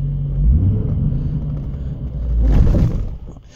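The engine of a 1996 C4 Corvette with a manual gearbox, given light throttle by a learner driver, a deep low rumble from inside the car that swells twice, then dies away at the end.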